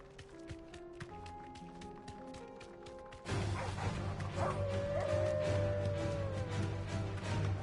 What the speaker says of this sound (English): Yeah, let's fight the dogs.